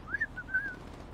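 A short, thin whistled tune of a few gliding notes, quiet and close over faint room noise, with no talking.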